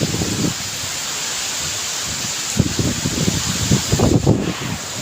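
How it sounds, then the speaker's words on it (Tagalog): Steady typhoon wind blows with gusty rustling of leaves and foliage, swelling in bursts, and a constant windy hiss throughout. "Lakas pa rin ang hangin guys."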